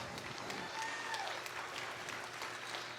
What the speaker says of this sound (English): let's give all these young people a nice round of applause.